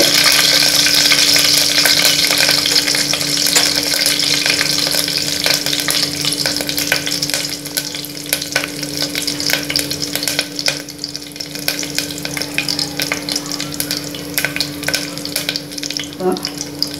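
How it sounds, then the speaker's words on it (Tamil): Mustard seeds and curry leaves splutter in hot oil for a Tamil-style chicken soup, a loud, dense crackling sizzle with scattered sharp pops that settles slightly toward the end. "கடுகும் கருவேப்பையும் பொருந்துகிறது"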